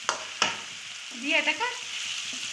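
Onion, ginger, garlic and dry red chillies fry in a pan for chicken kosha, a loud steady sizzle broken by a couple of sharp scraping stirs, with a brief spoken phrase over it.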